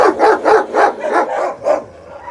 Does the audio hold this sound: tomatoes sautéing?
no